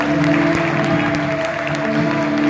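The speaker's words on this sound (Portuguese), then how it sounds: "Você pode aplaudir o Senhor com toda a sua força." A church congregation applauds during a worship service, a dense, steady wash of clapping under sustained musical tones from instruments.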